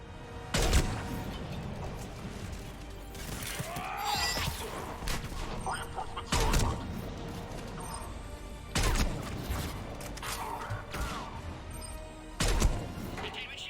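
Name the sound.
gunfire in the video game Mass Effect 3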